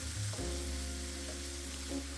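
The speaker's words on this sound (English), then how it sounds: "we're just going to stir that round for about 7 or 8 minutes until the vegetables start to cook" Vegetables and herbs sizzle in a pan for a one-pot chicken and vegetable stew, a loud steady fry with stirring scrapes, no voices.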